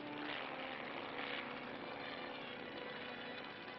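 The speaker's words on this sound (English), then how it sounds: "Among the many missions performed by the Navy helicopters, swift recovery of samples from the water and land cables proves the versatility of these craft." Navy helicopters fly during nuclear bomb test operations, a continuous muffled rotor and engine drone heard as a steady, dull roar on an old, band-limited recording.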